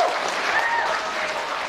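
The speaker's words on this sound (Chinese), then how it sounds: "看那掌声。 压都压不住啊！" A live audience at a crosstalk comedy show breaks into dense, loud applause that continues steadily for the whole moment.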